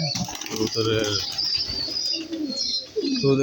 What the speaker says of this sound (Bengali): এই যে কবুতর একটাকে খাবার খাওয়াচ্ছে